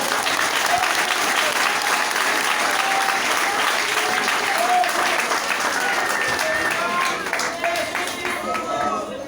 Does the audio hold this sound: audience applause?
yes